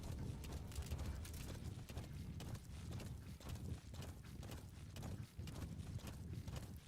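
Horse hooves in Metal Gear Solid V: The Phantom Pain, a fast, rhythmic galloping clip-clop continuing steadily at moderate loudness with a low rumble beneath.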